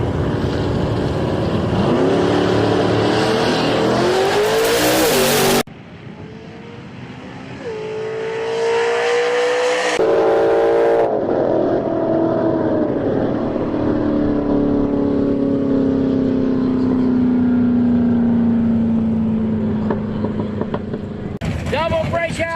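Drag racing cars roar off the line at a racetrack, a 1979 Mustang among them, with loud, rising engine notes that shift pitch as they pull away down the strip, then a second engine builds and fades.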